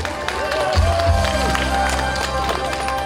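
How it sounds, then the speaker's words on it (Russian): Festival crowd applauding at an outdoor city celebration, loud continuous clapping and cheering with music or voices over a public sound system underneath. "Аплодисменты, друзья!"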